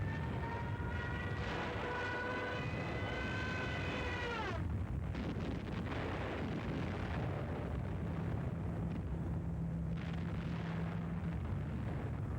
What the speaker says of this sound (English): Enemy anti-aircraft fire from all sides.